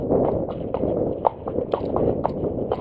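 A pony walking under a rider, hooves plodding in a steady, unhurried clip-clop rhythm over constant low background rumble.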